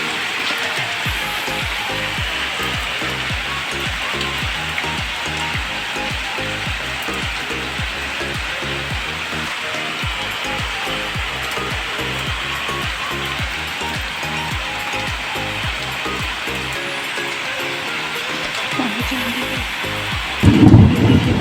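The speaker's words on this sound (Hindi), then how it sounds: "झमाझम बारिश हो रही है" Heavy rain pours steadily in a rural village during a thunderstorm with lightning, a dense continuous hiss with low rumbling underneath and a louder burst near the end, no voices.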